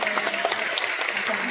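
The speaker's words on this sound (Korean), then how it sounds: "박수 한번 쳐주시다" An audience at a book launch event claps together in a steady, dense burst of applause, moderately loud, with a voice faintly mixed in.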